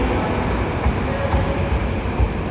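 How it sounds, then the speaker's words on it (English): A Class 185 TransPennine Express diesel unit, running from Manchester Victoria to Scarborough, pulls out of York station with a loud, steady rumble and rolling rail noise that stays close throughout, with no voices. "Off goes 185-103 with another Transpennine Express 185 from Manchester Victoria to Scarborough."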